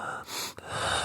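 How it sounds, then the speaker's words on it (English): Breathy human gasps sound close up in a podcast, two rushing inhalations separated by a brief sharp catch in the middle. "Just gasping, like, not breathing"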